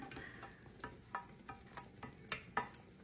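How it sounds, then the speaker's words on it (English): A spoon stirs clam chowder in a pot, giving soft, irregular scraping taps roughly every third of a second over a quiet bubbling background. "Just gonna stir that in real good."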